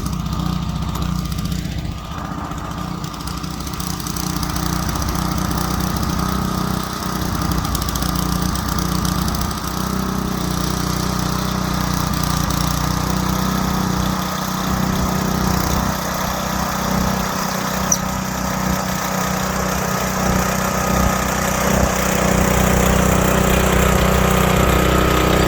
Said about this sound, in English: That's called a Craftsman starter.